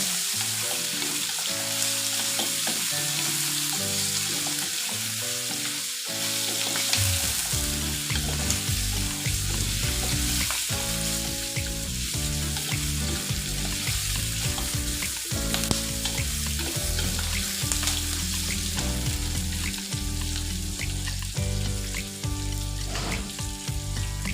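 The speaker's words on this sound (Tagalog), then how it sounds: "ilalagay na natin ang pork ribs. Isa-isa, halo-haloin." Pork ribs fry in a pan with a loud, continuous sizzle and occasional stirring scrapes. A steady tonal hum runs underneath throughout, and nobody speaks.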